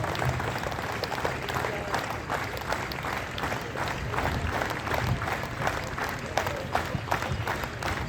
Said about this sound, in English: Thus, give them a clap, applause. Can we give a applause?